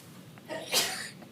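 A single sneeze in a meeting room, a short sharp burst at moderate distance over quiet room tone, with a faint breath just before it.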